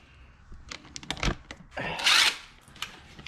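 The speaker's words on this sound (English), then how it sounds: "Definitely get yourself a DeWalt mini impact." A DeWalt mini impact driver works on an AMX during a heater blower motor replacement, firing in two short close bursts among light clinks and handling noise.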